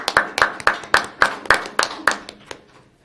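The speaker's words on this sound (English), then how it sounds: "Just clap for her" A single pair of hands clapping at a board meeting, about ten crisp, evenly spaced claps that fade slightly toward the end.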